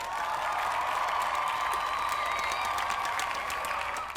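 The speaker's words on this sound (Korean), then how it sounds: "박수" Steady applause from a studio or small group, sustained and fairly loud for a few seconds before tailing off, with no talking over it.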